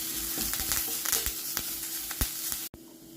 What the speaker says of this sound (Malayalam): ഇനി ഇതിലേക്ക് 2 പച്ചമുളക് കട്ട് ചെയ്തതും കുറച്ച് കറിവേപ്പിലയും കൂടി ചേർത്ത് നന്നായിട്ട് വഴറ്റിയെടുക്കാം.